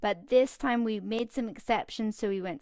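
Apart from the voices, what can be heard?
No everyday noises stand out.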